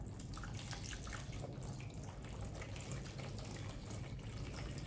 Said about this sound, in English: First, I'm going to pour some water into my tub here.